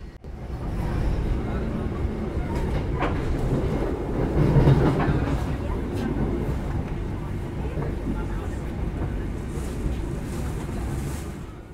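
A train rumbles steadily through Lempuyangan station in Indonesia with a low, continuous roar and faint clickety-clack, mixed with some background voices.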